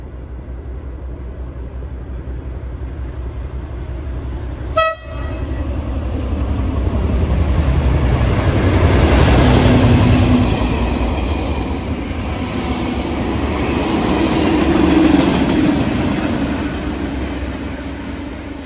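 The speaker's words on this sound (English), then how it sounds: "Oh, that was a happy train, just missed him." A train rumbles past loudly and close, with a sharp click early on and a long roaring swell of wheels and wind as it goes by.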